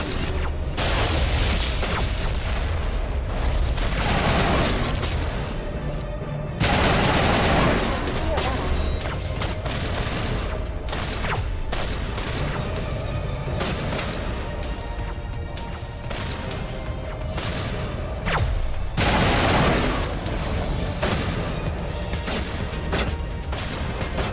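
Gunfire in Mass Effect Legendary Edition, with dense, sustained bursts of shots and booms filling the scene almost continuously, loud and close, and voices talking over the shooting.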